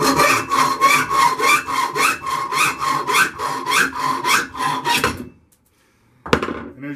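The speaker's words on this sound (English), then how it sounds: "I'm just going to take my hacksaw. Put it on the last set of threads here." Hacksaw cutting through metal stock, likely the threaded end of a leather-stamp tool, held in a soft-jawed vise: about a dozen steady, loud rasping back-and-forth strokes, then silence and one last short scrape.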